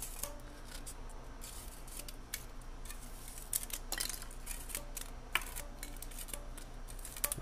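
A hot wire foam cutter, a hot knife bought on eBay, slices through a block of foam with soft scratchy crackles and brief sharp snips over a low steady background hum. No voices.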